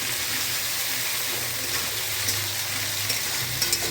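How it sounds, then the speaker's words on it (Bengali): Ginger-garlic paste fries in a pan for a fish curry with cauliflower and potato. A steady, close hiss of sizzling oil holds throughout, with faint clinks near the end. "আদা রসুনের পেস্টটা একটু ভাজা ভাজা হয়ে যাবে"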